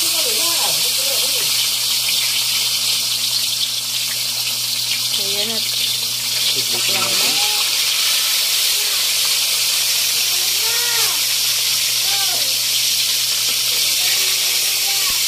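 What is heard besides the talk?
frying onion, garlic and tomato in a pan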